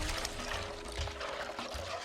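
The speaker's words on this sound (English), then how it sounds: "then we pour boiling water to it" Boiling water poured over adire fabric in a dye bath mixed with cold water to protect candle wax resist, a steady close pouring and splashing with low gurgles throughout.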